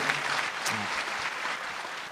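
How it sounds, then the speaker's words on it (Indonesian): Audience applause for stand-up comedian Mukmin at a comedy competition grand final, a steady wash of clapping lasting about two seconds with faint voices mixed in. "boleh tepuk tangan sekali lagi buat Mukmin"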